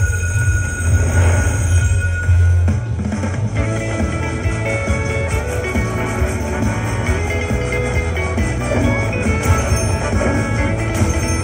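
Slot machine audio from the Railroad Riches game, with a steady rumbling train loop and bright chiming tones layered above it, loud and continuous throughout.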